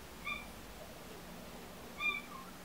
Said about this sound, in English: I don't know if you can hear that, that's my cat.